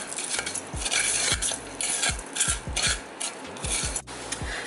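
Crispy fried saltfish is stirred in a pan, a utensil scraping and clacking against the metal in repeated strokes over a faint sizzle, close and fairly quiet with no talk.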